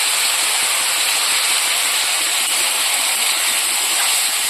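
Mango pieces fry in a pan for chutney, giving a steady, dense sizzle that hisses evenly and close throughout without pause.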